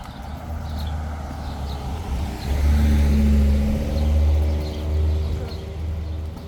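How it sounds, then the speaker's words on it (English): A FedEx delivery truck drives past on a residential street near a cul-de-sac and school, its engine swelling to a loud, close rumble midway and then easing off as it moves away. "Did you see that FedEx truck go by?"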